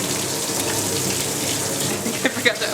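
Hot water runs steadily from a kitchen tap as a continuous broadband gush, with a couple of brief clinks near the end.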